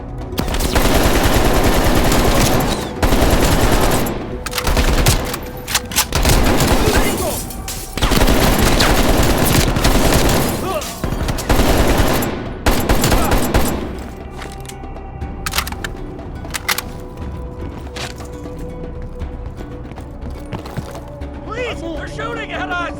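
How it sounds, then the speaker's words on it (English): Heavy gunfire in Black Ops Cold War comes as long loud bursts of automatic fire and repeated single shots over the first half, then falls to scattered distant pops and mechanical clatter while voices shout beneath the battle. "They're shooting at us!"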